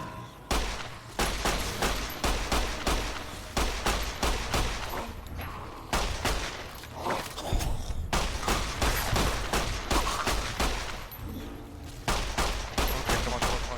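Rapid gunfire in Fallout: New Vegas cracks out in dense bursts, many loud close shots in quick succession with brief pauses, running nearly continuously and at times layered over each other.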